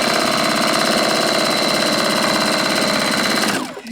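A sewing machine runs at a fast, steady stitching rate while piecing fabric for a chevron spinner quilt block, loud and close, then stops abruptly near the end.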